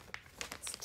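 Foil packet of a squishy, liquid-filled beauty product squeezed in the hand, giving a few short, faint crinkles in quick succession.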